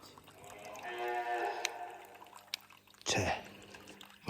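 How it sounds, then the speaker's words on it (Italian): A cow moos in a long, low call, then another animal call or sharp burst follows, with light outdoor ambience and no talking. "senti le mucche"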